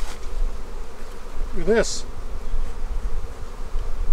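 A swarm of honey bees buzzes steadily around a hive during a spring beekeeping inspection, a dense close hum that fills the whole stretch while someone speaks briefly over it.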